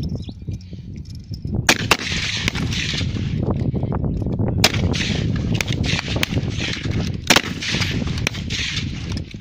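A .303 Martini Enfield rifle fired rapidly outdoors, several loud, sharp shots spaced about a second or two apart, with the metallic clack of the action worked between them, no talking.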